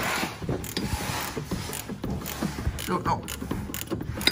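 Wrench working a stubborn bolt loose on a golf cart, close up, with irregular metallic clicks, ratcheting and creaks over a steady background and a brief spoken remark.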